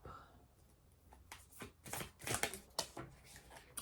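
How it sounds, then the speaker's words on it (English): Tarot cards are shuffled by hand at close range, a run of soft riffling bursts that grows louder and denser toward the end. Faint room tone fills the gaps between them. "I am kind of tired of all these cards jumping. I do just want to shuffle peacefully."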